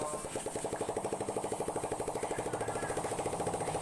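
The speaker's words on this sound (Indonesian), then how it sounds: "Kita coba gas sebelum dipasang knalpot ini Mas Bro." Honda CB150R motorcycle engine running with no exhaust fitted, a loud, rapid, even stream of sharp pulses hammering steadily throughout.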